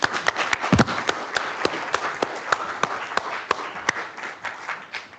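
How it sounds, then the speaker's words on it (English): Audience applause at a university evening event on Python and education: steady clapping from a modest crowd, with distinct individual claps standing out, heard alone for several seconds. "Please, an applause."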